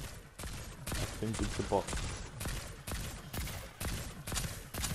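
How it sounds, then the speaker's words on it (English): Another player in a video game fires off rapid bursts of gunshots, sharp repeated cracks in quick clusters at moderate distance, while a player talks over them. "Someone's shooting at me."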